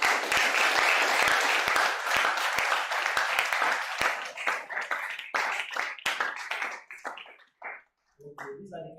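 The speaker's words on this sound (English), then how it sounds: "these are the kind of claps you give probably when the governor is passing" A seminar audience applauds loudly and densely, the clapping thinning into scattered claps and then dying out, with a voice speaking briefly near the end.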